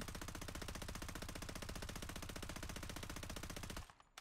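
Rapid, sustained automatic gunfire in Blood Strike, a steady rattling burst lasting several seconds before cutting off abruptly near the end.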